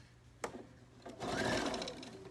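A sewing machine stitches across the bottom hem of a children's t-shirt dress, with a short burst, a pause, then a steady continuous run of needle motor whirring close by.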